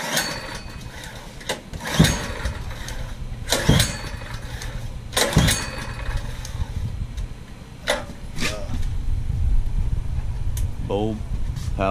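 A small engine with its choke on is cranked repeatedly, giving several sharp pulls and brief sputters across twelve seconds, close and loud, with people talking over the attempts.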